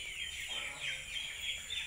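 Outdoor poultry yard with chickens and ducks clucking and calling steadily, a constant high background hum running underneath.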